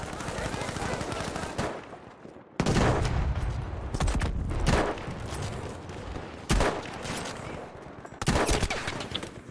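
Battlefield V gunfire fills the scene with steady rapid automatic bursts over a constant battlefield din, broken by several loud, sharp blasts.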